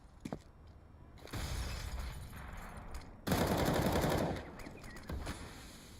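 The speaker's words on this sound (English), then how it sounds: "Let's see if the scout amounts to anything at all as Pasha rattles off a shot at B." Rifle gunfire and a scoped sniper shot ring out in a Counter-Strike match on the Cobblestone map, with several bursts of sharp reports and clattering debris, moderately loud and without speech.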